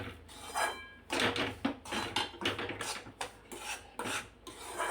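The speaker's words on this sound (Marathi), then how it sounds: "मध्यम आचेवर आपल्याला सारखा असा फिरवत फक्त खमंग होईपर्यंत भाजून घ्यायचा आहे।" Semolina is roasted over medium heat in a pan and stirred continuously, making rhythmic, rasping scrapes of a spatula dragging through dry grains, steady back-and-forth strokes heard up close with no voices.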